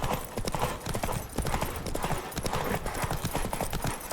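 Galloping horse hooves pound in a fast, steady clip-clop rhythm during a horse race in The Witcher 3, loud and close with faint voices mixed in.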